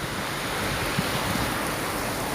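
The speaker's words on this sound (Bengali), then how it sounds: "ওই দেখেন রাস্তা দিয়ে গাড়ি যাচ্ছে আর মুষলধারে বৃষ্টি হচ্ছে" A heavy downpour pounds down in Bonpara while a vehicle travels along a road, a dense, unbroken roar of rain with faint low thumps and no speech.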